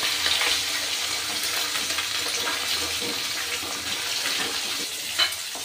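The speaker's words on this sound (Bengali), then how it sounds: "আমি আর এক পিঠ উল্টে দিচ্ছি।" Katla fish heads frying in hot oil after being flipped to the other side, a continuous bubbling sizzle with a soft clatter of the turn near the end.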